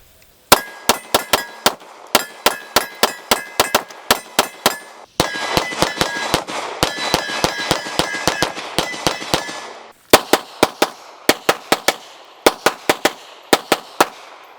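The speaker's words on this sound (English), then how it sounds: "Overall, the gun just shot beautifully." Hudson H9 pistol fired repeatedly, sharp metallic gunshots in quick bursts and steady strings of rounds, loud and close at an outdoor range, with only brief pauses between groups.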